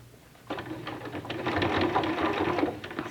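A sewing machine stitches a seam on a fabric cosmetic bag, starting after a short pause with rapid, steady mechanical whirring and clatter that runs close and loud to the end.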